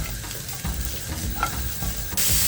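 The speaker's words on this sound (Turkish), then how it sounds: "Haşladığımız Şevketi Bostanları tavaya alıyorum. Ve şöyle bir bir buçuk dakika kadar sarımsakla beraber kavuracağım." Boiled blessed thistle is sautéed with garlic in a pan, giving a steady close sizzle broken by scraping stirs, and the frying swells louder near the end.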